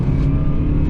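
A Subaru car engine revving hard on a downshift, a loud steady close-up engine roar over about a second, heard alone.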